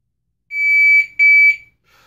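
Two loud electronic beeps from a shot timer, a steady high tone followed by a short pause and a second tone, fairly close.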